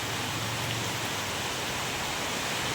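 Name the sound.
heavy rain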